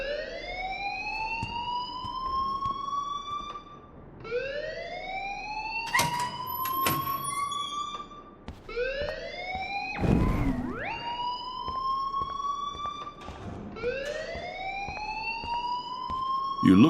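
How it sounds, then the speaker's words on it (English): A school alarm in Life Is Strange wails in repeated rising siren sweeps, each lasting a few seconds, with sharp clanks and bangs cutting in between the cycles. "please turn off that alarm since that's your job"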